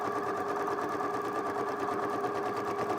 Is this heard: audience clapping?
no